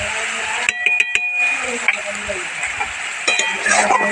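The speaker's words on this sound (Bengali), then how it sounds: "মশলাটাকে ভালোভাবে কষে নিতে হবে" Spice paste for a spicy pomfret fish curry sizzles in a pan while a utensil stirs it, with metallic clinks and scrapes against the pan over a constant close frying hiss.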